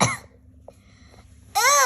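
A reader's voice imitates a cough, giving one loud, harsh burst at the start and another at the end, with near silence between them.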